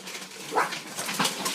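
Dogs whimper and give a few soft yips over a constant background hiss, the high whines rising twice in short bursts at moderate distance.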